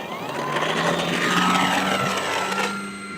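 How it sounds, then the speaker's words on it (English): A Tecnam light aircraft taking off at sunset, its propeller engine droning steadily and fairly close, with a pitch shift partway through as it climbs away; no talking. "Look at that beautiful takeoff."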